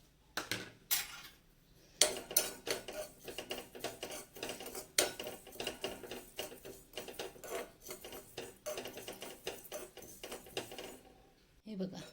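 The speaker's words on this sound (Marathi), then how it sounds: "हे सगळे मसाले आता बारीक गॅसवर थोडेसे परतून घेऊया।" Whole spices and poppy seeds are stirred and scraped in a pan over low gas for chole masala, giving a steady run of close clinks and scratches, with a voice speaking over them.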